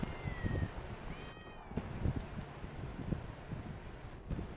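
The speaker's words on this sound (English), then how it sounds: "No, wait, there's a cat." A cat in Grand Theft Auto V meowing a few times in short rising cries, fairly faint over a low rumbling, rustling outdoor background.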